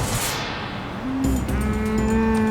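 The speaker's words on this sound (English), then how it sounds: "there's 10 to 20 cows running around the highway." Loose cattle roaming a highway after a transport collision moo loudly and close, with a long low call rising in pitch over steady traffic and wind noise.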